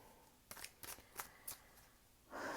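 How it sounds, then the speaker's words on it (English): A deck of tarot cards being shuffled, four or five quick riffling bursts in steady rhythm, then a longer soft rustle, close and quiet with no talk. "I'm going to shuffle my deck."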